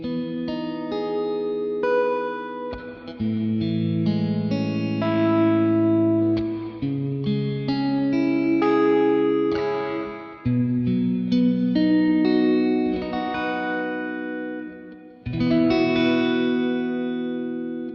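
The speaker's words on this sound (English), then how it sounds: "If you want to do like a clean sound with some single coils," An electric guitar with single-coil pickups plays a clean tone through an HX Stomp using a Litigator and Mail Order Twin preset, with shimmering chorus-like effects. Sustained chords and melodic notes ring out in a few phrases separated by brief gaps, with no speech.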